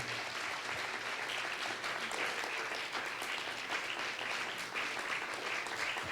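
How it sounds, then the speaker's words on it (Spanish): Sustained applause from the audience at a university inaugural lecture in a hall honouring a guest named Ernesto, a steady wash of many hands clapping evenly throughout, moderately quiet and unbroken by talk. "Entonces, un aplauso grande a Ernesto."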